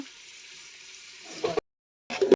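Onions fry in a pan for home-style dum biryani, a faint steady sizzle that gives way to a few louder scrapes and clatters of stirring, with one brief silent break.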